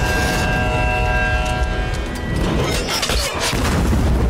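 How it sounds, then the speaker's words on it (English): In a One Piece anime scene, a cannon blast booms with a heavy, rumbling roar that swells and rolls on, over a sustained tonal hum from the soundtrack. "The cannon!"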